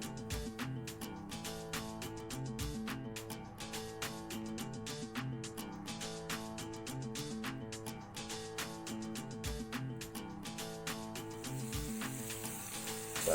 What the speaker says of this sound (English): we're just going to cook this for a good few minutes till the onion starts to go soft and translucent